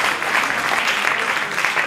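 Applause at an Italian regional sports-of-the-year award ceremony, loud, close and steady clapping from a crowd for a short burst without pause.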